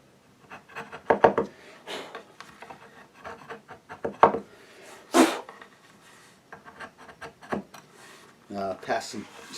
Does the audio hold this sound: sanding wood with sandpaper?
yes